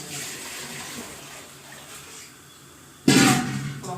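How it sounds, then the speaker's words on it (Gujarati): Quiet room tone, then a sudden loud rush of water poured into a pot of dal near the end, lasting about a second. "આપણે પાણી થોડુંક વધારે નાખશું"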